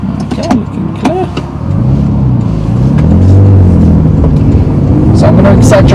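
A manual car's engine revs up steadily under acceleration in low gear, its hum rising in pitch and loudness, while someone talks over it near the start.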